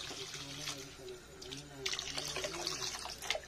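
Water poured into cooking masala in a pan while making aloo paneer, a splashing, trickling pour under a person talking that grows louder in the second half.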